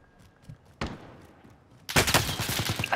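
Gunfire in Call of Duty: Modern Warfare: a lone shot, then a louder crack, then a dense rapid burst of automatic fire that carries on to the end.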